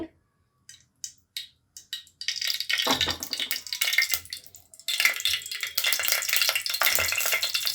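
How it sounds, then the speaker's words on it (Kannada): Cooking oil poured into a pan for brinjal curry, a few soft clinks and taps at first, then a sustained close hissing, spattering wash that surges and fades in waves. "ಇಲ್ಲಿ ನಾನು ಎಣ್ಣೆ ಹಾಕ್ಕೊಳ್ತಾ ಇದ್ದೀನಿ"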